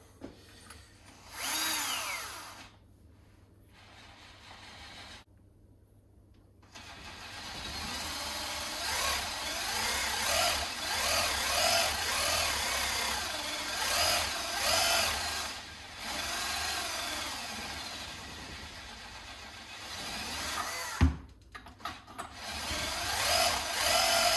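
An Istabreeze i1500 power tool drives a 27mm socket on the bench in several loud whirring runs broken by short pauses, ending in a sharp clack and a final burst.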